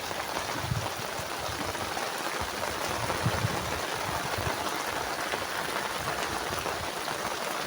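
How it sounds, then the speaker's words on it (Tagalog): Heavy rain pouring down steadily at a riverside house, a dense continuous hiss of drops on surfaces, loud and unbroken with no talk. "Lakas ang ulan."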